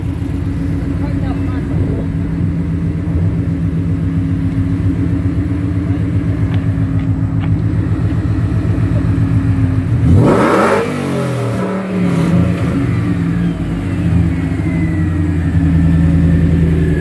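A stock BMW S63 twin-turbo V8 on a dyno, loud and close. It holds a steady heavy drone, then climbs in one sharp rev sweep around the middle and settles back. A crowd talks over it.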